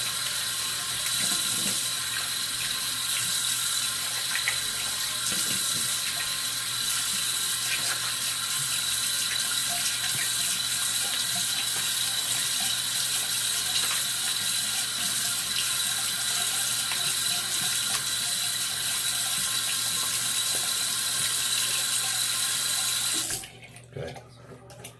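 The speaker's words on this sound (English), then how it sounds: "let me rinse this off real quick. Cold water." Cold tap water runs steadily into a bathroom sink while a razor is rinsed under it, a continuous close splashing stream that stops abruptly near the end.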